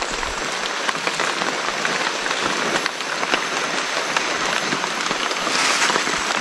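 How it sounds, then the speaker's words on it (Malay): Steady rain falling in a hill forest at Bukit Ulu, Sarikei, a dense, even hiss of drops pattering on leaves and surfaces close by, continuous throughout. "Hari masih hujan guys."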